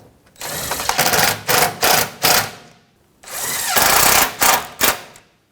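A ratchet fitted with a 10mm socket drives bolts on the oil pan of a 2014–2019 Toyota Corolla 1.8L four-cylinder, loud whirring bursts, a longer run followed by several short spurts, repeated twice with brief pauses between.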